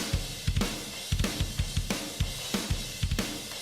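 A metal drum kit mix without added drum samples plays a driving pattern of punchy kick hits and cracking snare or cymbal strikes, loud and close, in a steady rhythm throughout.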